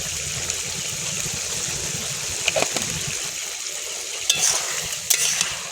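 Pumpkin and kabuli chickpeas fry in a pan with chili powder and sugar, a steady close sizzle under scraping stirs, with a few sharper clatters of the spoon against the pan.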